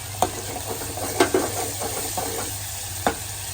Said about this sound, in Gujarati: ગરમ મસાલો એ નાખી દેવાનો અને સાતરવા દઈએ